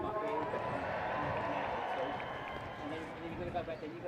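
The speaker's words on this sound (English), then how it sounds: "let's give them a big cheer." An outdoor airshow crowd raises a broad cheer, a sustained wash of many voices and scattered clapping, moderately distant, with a voice speaking over it.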